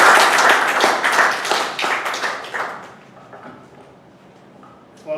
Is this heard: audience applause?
yes